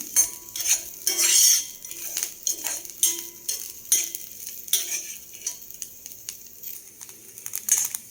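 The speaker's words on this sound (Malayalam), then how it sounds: "അതൊരു ബ്രൗൺ കളറാകുന്നവരെ നമ്മളിങ്ങനെ കരിഞ്ഞു പോകാതെ ഇളക്കി വറുത്തെടുക്കണം." Grated coconut dry-roasts in a pan while a spoon stirs it, making repeated scraping clicks and taps against the metal in an uneven rhythm, close and fairly loud, with a light crackle underneath and no talk.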